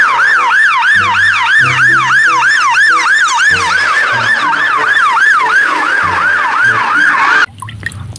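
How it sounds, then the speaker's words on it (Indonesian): A toy fire truck siren wails, cycling rapidly up and down, loud and close, with a low tinny melody underneath, then cuts off abruptly near the end. "Wadidaw, mobil pemadam kebakaran."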